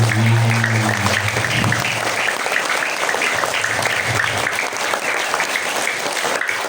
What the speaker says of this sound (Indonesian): Tepuk tangan buat ibu kepala sekolah kita yang luar biasa.